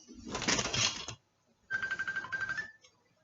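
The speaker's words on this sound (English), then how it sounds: "I'm not answering the phone for a reason." A phone rings in two buzzy bursts of ringtone separated by a short pause, close and fairly loud, with no one talking.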